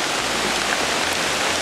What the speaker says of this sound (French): Bon là il pleut.